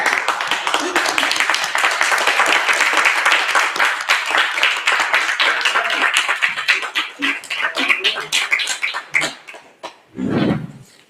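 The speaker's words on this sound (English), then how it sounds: "If you all could please stand and give him a round of applause and all of his staff." A standing audience applauds at a Black Holocaust Remembrance Day event, loud sustained clapping that thins into scattered individual claps toward the end, followed by a brief voice.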